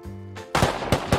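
Gunshots in a video game: after a brief low tone, three sharp, loud reports crack out in quick succession, each with a short ringing tail.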